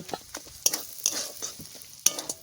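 Momos fry in a pan, a light sizzle punctuated by quick stirring scrapes and sharp metallic clinks of a utensil against the pan, close and brief.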